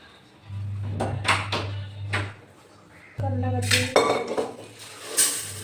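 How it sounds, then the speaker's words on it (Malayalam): A pressure cooker being fetched in a home kitchen, with metal pots and pans clanking and clinking in several bursts, close by and fairly loud, alongside a low steady hum. "കുക്കർ എടുത്തോണ്ട് വരട്ടെ"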